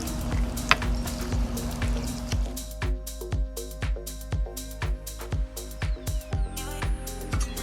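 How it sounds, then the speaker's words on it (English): Bourbon baked beans with a quarter cup of bourbon are stirred in a pot, giving rhythmic wet squishing scrapes, close and regular, about one stroke every half second. "And I'll just stir everything together"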